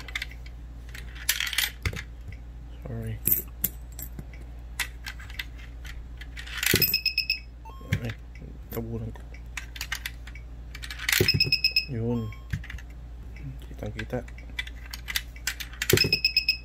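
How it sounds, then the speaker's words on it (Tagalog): Coins clink as they drop into a custom coin-operated board with blinker and buzzer, each followed by a short electronic beep, repeated several times with brief talk in between. "Hulog ako ng piso, isang blink yan, tsaka isang tunog."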